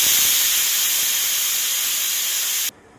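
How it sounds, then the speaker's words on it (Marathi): A pressure cooker on a gas stove vents steam while spinach dal cooks, giving a loud, close, continuous hiss that cuts off abruptly near the end and leaves quiet. "कुकर लगा नाखू छू आणि 2 सीटी काढलो छू।"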